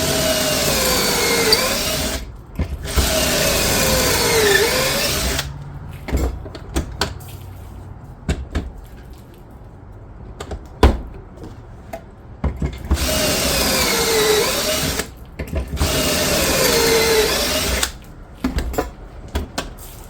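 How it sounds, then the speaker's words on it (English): A power drill whirs in two sustained bursts, boring pocket holes with a pocket-hole jig, with quiet clicks and handling noises in the pause between them. "It just does pocket holes. It comes with the kit and the drill bit and this jig"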